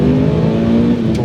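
A Mitsubishi Lancer Evolution 8 MR with factory power and suspension and a 6-speed gearbox revs hard while driving, a loud, steady engine drone heard from close by with no speech.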